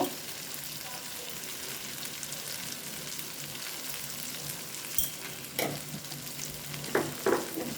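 Fried potatoes with chhana and spices sizzle in a pan for a vegetarian chhana curry, a steady frying hiss broken by a few sharp scraping stirs of the spatula toward the end.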